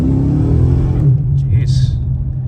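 Engine of a 2011 Dodge Charger fitted with a 2010 5.7 Hemi, rumbling close and loud at a steady low idle, with a brief faint hiss near the end.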